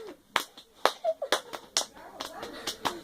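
Hands clap in a loose, uneven run of sharp slaps, close and fairly loud, mixed with short bursts of speech between the claps.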